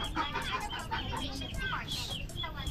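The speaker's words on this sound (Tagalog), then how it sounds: "Ingay ng pato" A duck quacks in a series of short, rapid calls, fairly close, amid background chatter and a busy outdoor din.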